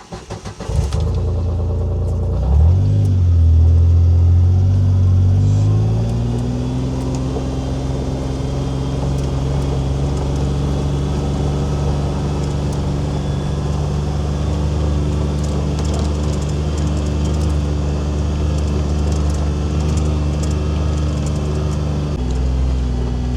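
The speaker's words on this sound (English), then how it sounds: "let's take a ride in the old Kawasaki Mule" An old Kawasaki Mule utility vehicle starts up and drives along on the way to check flooded ponds, with its engine revving up after a couple of seconds and then holding a steady, loud running drone to the end.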